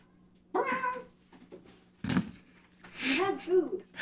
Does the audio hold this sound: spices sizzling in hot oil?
no